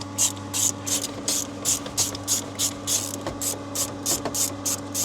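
Ratchet with an 8mm socket loosening the bolts of a stock radio in a Toyota Yaris dash, a steady run of rapid, evenly spaced clicking strokes up close, repeating throughout over a faint hum.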